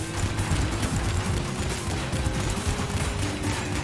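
Rapid bursts of spread-shot gunfire in the video game Gear Shifters, a car-based shooter, rattle continuously, dense and steady, with a mechanical, game-like quality.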